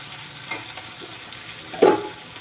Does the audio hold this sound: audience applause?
no